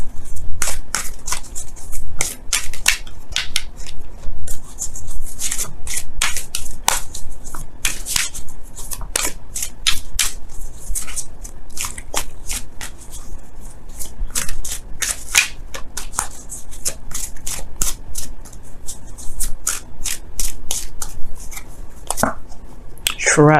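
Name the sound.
shuffling Romance Angels oracle cards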